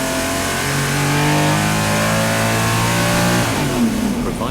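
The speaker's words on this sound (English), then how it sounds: "Not only will you have the most detailed onboard recordings of a Sea-Doo, you will also receive engine revs" A Sea-Doo jet ski engine revs loudly and close at a steady, high-pitched drone, then the tone drops and roughens near the end as the revs fall away, with no talking.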